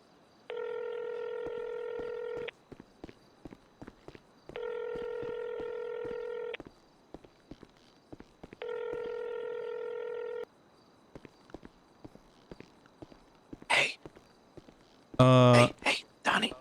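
Phone dialing tones in a video game: three long, evenly spaced beeping tones, each about two seconds, with faint clicks and brief chirps in between, then a short burst of louder sound near the end.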